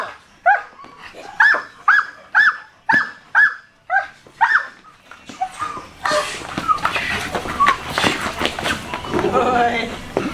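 A dog in bite work training barks in a rapid series of sharp, close barks, then lunges and grips a bite pillow amid scuffling, growling and rustling noise, with a trainer's voice mixed in.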